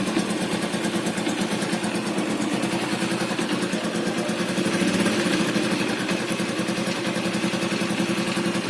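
An eight-year-old 2013 Yamaha Jupiter MX motorcycle idles close up, giving a steady, even mechanical putter with a fine rapid pulse that barely changes loudness throughout, with no voices.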